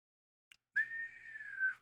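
A single long whistle imitates incoming cannon fire in a tabletop fantasy game, a clear sustained tone lasting about a second, gently sliding in pitch, after a brief soft click, with silence around it.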